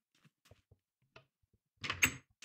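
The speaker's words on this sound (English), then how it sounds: "The magical door opens." A door opening in Minecraft, triggered by a redstone combination lock: a few faint clicks of input presses, then a louder burst of the door mechanism near the end.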